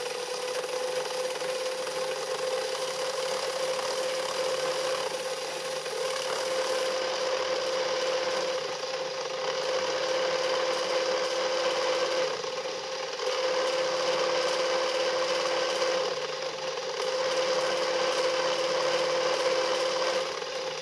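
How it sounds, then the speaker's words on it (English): A drill bores through two stacked metal knife-liner plates with a 7/64 bit, a steady high whine with brief pauses and restarts across the clip, fairly faint. "we're just gonna drill both of these"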